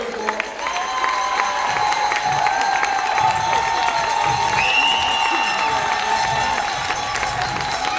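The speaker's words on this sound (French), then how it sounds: "On peut les remercier, les applaudir chaleureusement." An audience in a hall applauds at a youth gymnastics results ceremony, steady continuous clapping and some cheering that lasts throughout, with a voice heard over it.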